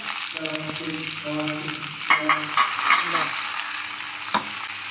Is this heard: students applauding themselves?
no